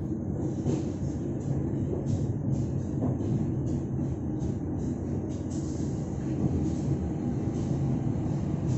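A cargo train passes at night through Bandung station, a steady rolling rumble with rhythmic clacking of wagons heard from the skybridge above, fairly loud and continuous.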